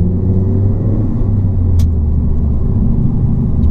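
Ford Focus ST turbocharged engine heard from inside the moving car, a loud steady low rumble that carries on without a break.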